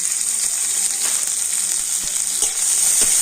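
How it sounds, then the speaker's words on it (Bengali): Chopped onion and green chillies fry in a pan with a loud, bright, steady sizzle and occasional stirring clicks, close up and with no talk. "এখন আমি সমস্ত কিছু একটু হালকা করে ভেজে নেব"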